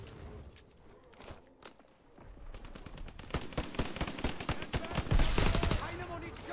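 Rapid bursts of gunfire from Call of Duty WW2 online multiplayer, including sniper rifle shots, crack out in a dense, building volley of sharp reports that grows louder and busier toward the end.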